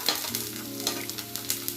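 Onion and garlic frying lightly in a pan as ginger paste is added, a bright continuous sizzle with spoon scrapes and taps at a quick, uneven pace, close and loud.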